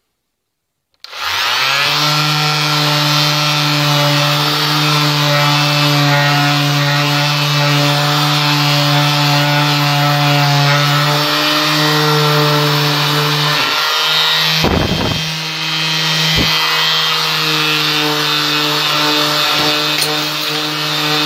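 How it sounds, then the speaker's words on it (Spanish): An electric power sander runs on painted, varnished wood that has been softened with a chemical stripping gel. It starts abruptly and holds a loud, steady motor whine with a strong hum, then stutters briefly near the end as it shifts on the surface. "tengo la lijadora."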